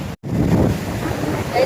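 Rough sea surges against rocks at high tide, a loud continuous roar of surf mixed with heavy wind buffeting, briefly cut out near the start.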